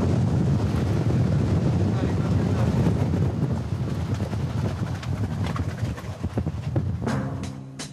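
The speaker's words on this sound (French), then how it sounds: "Là, il y a un bon coup de Mistral." Strong Mistral gusts buffet a Rhône river cruise boat near the Bollène lock, a loud, continuous roaring rumble of wind against the microphone that eases slightly toward the end, where faint clattering creeps in.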